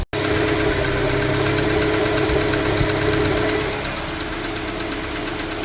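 A Honda Civic EF engine idles with a ticking from loose valve stem clearance. It runs as a steady, continuous mechanical rattle that eases slightly in level partway through.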